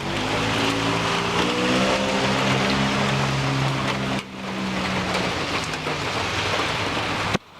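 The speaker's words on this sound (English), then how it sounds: "Get out of the rain." Steady rain pours down outdoors in a yard with fallen leaves, a continuous hiss with a low vehicle-like drone mixed in and a brief dip partway through.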